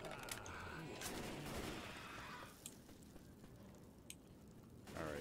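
Rapid bursts of gunfire ring out in Left 4 Dead 2, dense and continuous at close range with a few sharper single shots, while voices can be heard faintly underneath.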